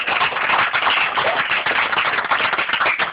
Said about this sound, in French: Normalement, quand je le retourne comme ça, on m'applaudit.